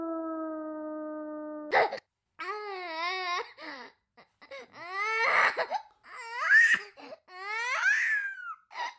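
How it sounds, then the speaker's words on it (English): A creature wails in high, wavering cries much like an infant's, several sobbing bursts rising and falling, loud and close after a steady tone. "Its cries sound almost infant-like."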